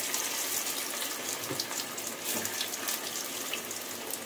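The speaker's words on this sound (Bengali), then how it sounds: "এখানে কিন্তু আমি তেল দিয়ে দিয়েছি, দিয়ে কিন্তু আস্তে আস্তে আলুগুলোকে আমি ভেজে নেব" Potato pieces frying slowly in hot oil for a potato and paneer biryani make a steady, close, bright hiss with faint crackles throughout, with no voices.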